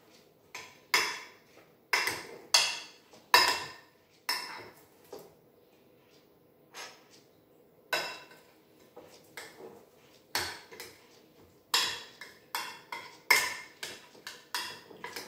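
Salad being tossed with a calamansi vinegar marinade in a bowl, irregular sharp clinks and scrapes of utensils against the dish in quick bursts with short pauses, close and fairly quiet, no talking.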